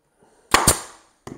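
A staple gun driving staples through upholstery fabric on an acorn-shaped piece: two sharp close snaps in quick succession, then a third lighter snap a moment later.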